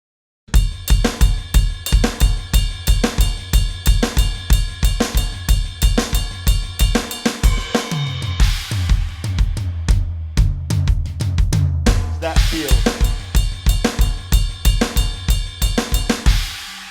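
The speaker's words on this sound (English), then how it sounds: "We're going to play in a 6/8 like rolling feel with a single stroke roll." An Afro-Cuban groove in 6/8 played on a full drum kit with rolling single strokes, a loud, dense and continuous pattern of rapid hits and cymbals with a brief shift in texture midway, no voices.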